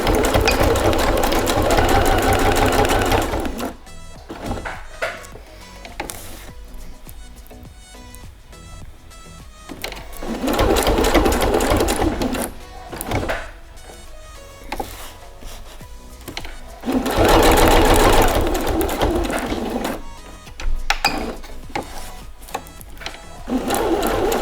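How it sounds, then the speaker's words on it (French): A sewing machine stitches hook-and-loop tape onto pinned fabric, a loud continuous whirring in three long bursts, separated by quieter pauses where the machine stops. "Et on va le coudre."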